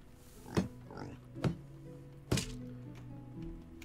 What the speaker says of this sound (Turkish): Ha, domuzlar.